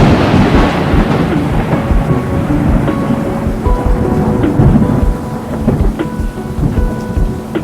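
Heavy rain pouring steadily with deep rolling thunder rumbling through it, loud and continuous, with no voices.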